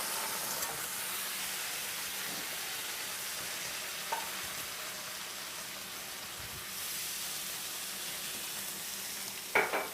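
Marinara sauce sizzles in a hot pan, a steady, fairly quiet hiss throughout with a couple of small knocks and a brief louder clatter at the very end.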